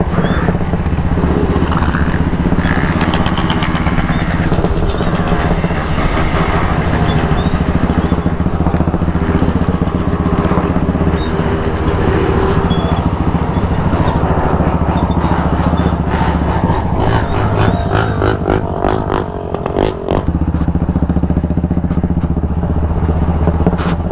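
Motorcycle fitted with a truck exhaust, a loud, deep, rumbling engine running steadily close by, with a rougher stretch of revving and crackle near the end and no talking.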